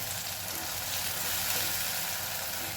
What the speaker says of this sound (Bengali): খুব ভালো করে নাড়াচাড়া করে মশলাটা কষিয়ে নিতে হবে